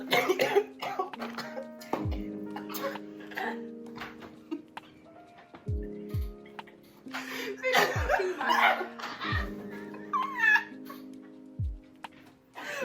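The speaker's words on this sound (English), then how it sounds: "I was trying to cough and laugh at the same time." Repeated coughing blended with laughter, a person hacking and chuckling at once in bursts, close to the microphone.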